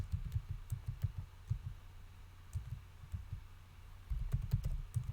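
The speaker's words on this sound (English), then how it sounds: "Let me just try typing something in." Rapid, uneven clicking of keys on a computer keyboard, close and fairly quiet, with short bursts and pauses and no talking.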